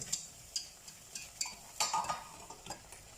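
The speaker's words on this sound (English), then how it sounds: "I will go ahead and give it a quick stir" Quiet clinks and scrapes of a spoon stirring Danish brown sauce in a pot, a series of light taps at an uneven rhythm over a faint background.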